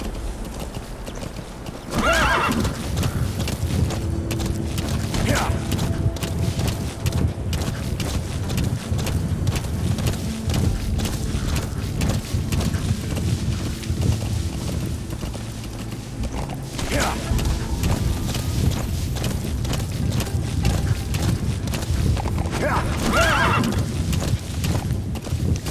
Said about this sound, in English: Speed up the horse.